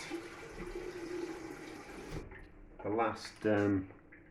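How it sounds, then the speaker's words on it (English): Tap water runs into a pot in a home kitchen, a steady close hiss that stops partway, followed by brief clattering as someone talks nearby. "I'm just running some water."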